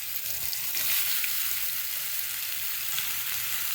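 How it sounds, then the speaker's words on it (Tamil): Small pieces of peeled, mature pumpkin fry in hot oil with a steady, bright sizzle and hiss, heard close and alone for several seconds. "இப்போ அதே எண்ணெயில் பூசணிக்காய் சேர்த்துக்கலாங்க"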